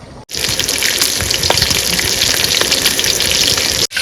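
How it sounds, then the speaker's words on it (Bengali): Fish frying in a pan with a loud, steady sizzle and crackle that fills the whole stretch, broken only by brief cut-offs at the start and end. "আমার প্রথমবারের মাছ ভাজা হয়ে গেল"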